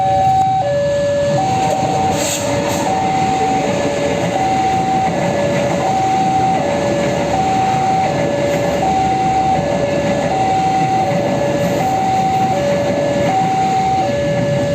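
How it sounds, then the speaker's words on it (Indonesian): The Probowangi passenger train rumbles steadily past for the whole stretch while a two-tone horn or signal repeats over the noise. "kereta api Probowangi yang akan melintas ini"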